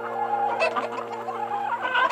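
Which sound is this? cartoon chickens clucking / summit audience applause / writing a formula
cartoon chickens clucking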